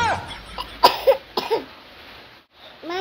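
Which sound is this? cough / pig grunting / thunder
cough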